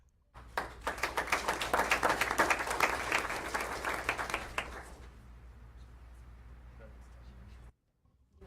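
An audience at a school board meeting applauds for about four seconds, dense steady clapping that stops abruptly, leaving quiet room noise before a brief silence.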